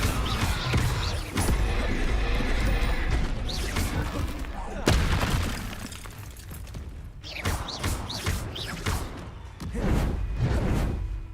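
Repeated Incendio fire spells cast in Hogwarts Legacy, loud whooshing bursts and booming blasts in overlapping waves, with brief pauses between casts.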